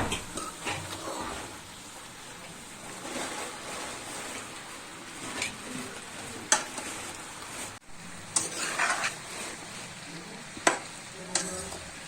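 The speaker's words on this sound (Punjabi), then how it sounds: "ਪਿਆਜ਼ਾਂ ਦੇ ਨਾਲ ਹੀ ਇਹਨੂੰ ਭਿੰਡੀਆਂ ਨੂੰ ਫਰਾਈ ਕਰਨਾ ਹੈ" Okra frying with onions and green chillies in a pan, a steady hiss and sizzle with occasional stirring scrapes and small pops, close and moderately loud with no voices.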